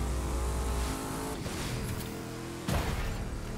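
A drag race car roars as it accelerates in The Crew 2, its engine loud and continuous with a high-revving whine, then a sudden harsh burst near the end as it shifts or surges forward.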